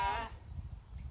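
A single sheep bleats in a field, a short wavering cry up front that fades, followed by low rumbling background noise.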